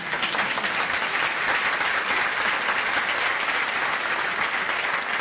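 A large audience claps at a university honorary doctorate ceremony, a dense, even wash of applause that stays loud and unbroken throughout without any speech.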